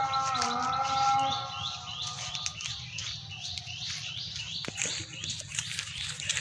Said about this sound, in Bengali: এই যে পাখিরা ডাকছে,